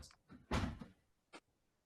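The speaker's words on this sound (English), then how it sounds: "My cat just walked in and opened my door." A room door that a cat has opened swings and then shuts with a soft knock, followed by a brief latch click. The sounds are near and fairly quiet, and a person speaks briefly nearby.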